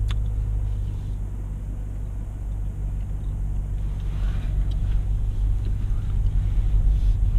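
Steady low engine and road rumble inside the cabin of a 2018 BMW 750i xDrive in comfort mode, driving in Helsingborg, Sweden; a continuous, muted drone with faint tire hiss, no talking.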